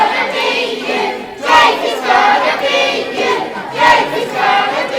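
A crowd at a Hex Pro wrestling title match, Spiral versus Jake McCluskey, chants in rhythmic loud swells, rising and falling in repeated bursts that fill the room.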